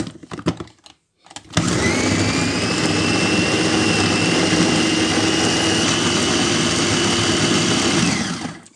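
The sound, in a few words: food chopper blending beefsteak tomatoes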